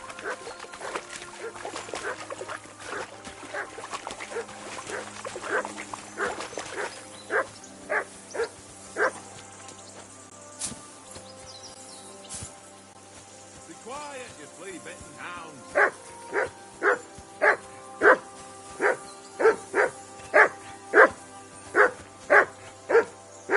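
A dog barks in Kingdom Come: Deliverance II, sharp repeated yaps in quick bursts, mid-distance, with quieter game ambience and a voice talking between the bark runs.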